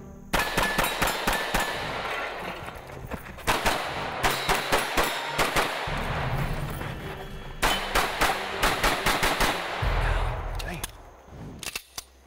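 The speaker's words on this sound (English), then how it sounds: "Champion 3-gunner Clint Upchurch shoots the Colt CCR Pro." A Colt CCR Pro rifle is fired during a 3-gun competition in rapid strings of loud, sharp cracks, some spaced and some in fast bursts, with brief pauses between strings and crowd or range noise underneath.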